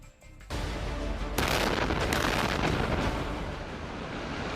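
An army destruction of 75,000 seized detonator capsules near Carchi goes off as a powerful blast, followed a second later by a second, bigger roar that rumbles on loudly and steadily to the end.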